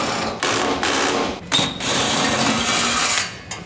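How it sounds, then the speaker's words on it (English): A power driver backs out the Phillips-head screws holding the stock front shelf on a Traeger Timberline grill. Several whirring bursts run close up, separated by short pauses. "we're going to remove the 6 Phillips headed screws that are holding your stock front shelf on"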